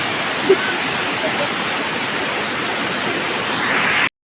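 River water flowing in a rural setting, a steady broadband rush heard up close that holds evenly for about four seconds with one brief knock early on, then cuts off abruptly.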